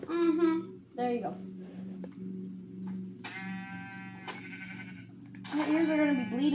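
Sheep in the video game Minecraft bleat several times in short wavering cries, loud and close, with a steady low in-game hum between them and no voices.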